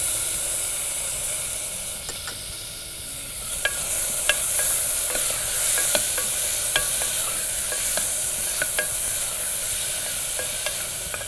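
Tomatoes go into onions frying in oil in a pan, with a steady sizzle and hiss throughout while a spoon scrapes and stirs in repeated short clinks. Close and continuous, with no talking.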